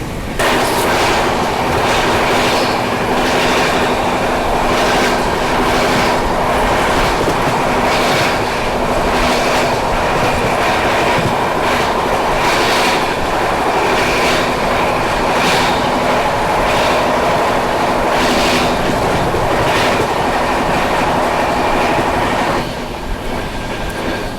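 The Howrah–Barmer Express rolls past on the railway, a loud, continuous rumble with rhythmic clickety-clack of wheels on rail joints and faint squeals, steady throughout before easing slightly at the end.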